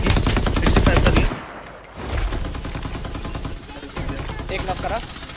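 Rapid bursts of automatic gunfire from the shooter game Farlight 84 rattle loudly, a dense volley followed by scattered shots and game effects, with someone talking excitedly over the action.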